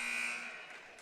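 A basketball game buzzer at the end of the half in a girls' high school game, one sustained electronic drone that sounds alone and fades after about a second.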